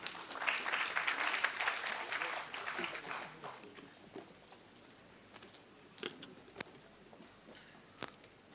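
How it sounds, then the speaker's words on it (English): A conference audience at a medical awards ceremony bursts into dense, steady clapping that holds strong for a few seconds, then thins into scattered claps and fades under quiet room noise. "A huge round of applause for Sir"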